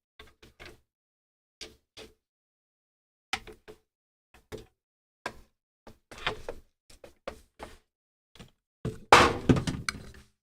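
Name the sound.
relic knocked off the back of a table falling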